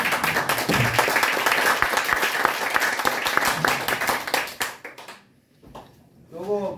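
Audience applause at a business trip report meeting on Mongolia, a dense wash of clapping hands for about five seconds that dies away, followed by a brief quiet and then a voice.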